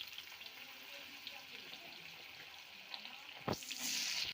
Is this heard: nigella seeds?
yes